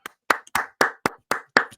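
Podcast hosts clap sharply and close up in a quick, even rhythm. Seven distinct crisp hand claps sound against near silence.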